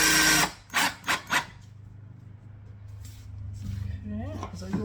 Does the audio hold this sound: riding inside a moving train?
no